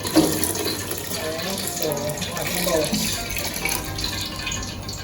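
Tap water runs in a kitchen as rice is washed under it, a steady splashing rush with faint shifting gurgles while a person talks briefly over it.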